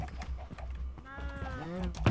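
Minecraft cows call with rising and falling pitch, a few drawn-out moos close by, over a low rumbling background.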